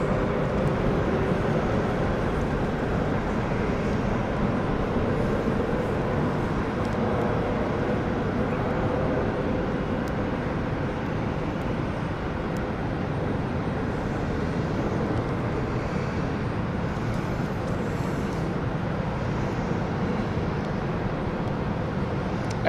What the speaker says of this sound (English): we've got the Belfast flight just coming in to land